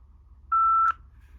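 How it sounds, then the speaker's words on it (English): A single clear electronic beep from a Victor Reader Stream 3 powering on, steady in pitch and lasting about half a second, sounds against a quiet background. "that beep actually sounds a lot similar to the first generation"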